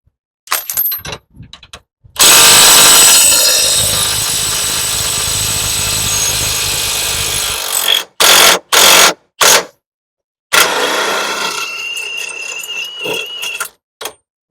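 Impact wrench used on a truck axle to shim it up, a loud close whir held for about five seconds, then several short sharp bursts, and another sustained run before stopping, no talking.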